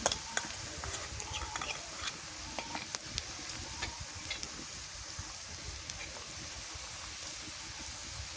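Dried chili paste and spices cook in a pan over a clay stove, giving a low steady sizzle with repeated soft stirring scrapes and small clicks, fairly quiet and with no talk.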